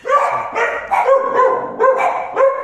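A dog barks loudly and close by in a rapid series of about six yapping barks, with no talk over them.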